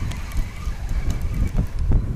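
Steady wind gusts roar across the microphone on a riverbank during an overnight fishing trip on the Aksai River, a loud, continuous rushing buffet with no speech.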